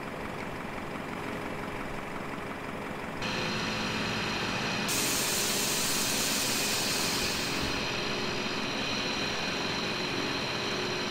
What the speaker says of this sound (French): Voilà donc la cinématique du camion qui vient refueler notre avion.